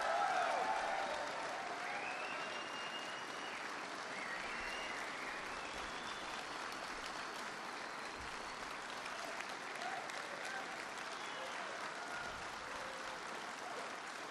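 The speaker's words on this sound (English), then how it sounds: "Were you applauding for someone in particular?" A crowd applauds at a speech to police, with continuous, even clapping for about fourteen seconds that sounds fairly distant and subdued and barely swells or fades.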